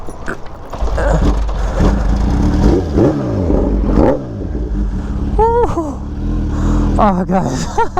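A heavy Kawasaki Ninja H2 motorcycle is bump-started, its engine catching and then revving loudly in several rising and falling bursts up close, with a person talking over the noise.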